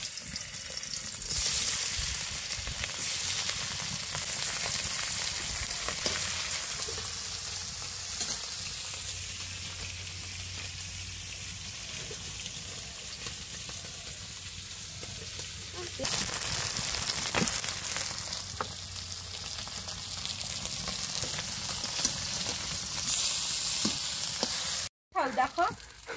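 Spicy fish pieces frying in oil give a strong continuous sizzle with stirring scrapes, dipping briefly mid-way and cutting out near the end, while people talk faintly in the background.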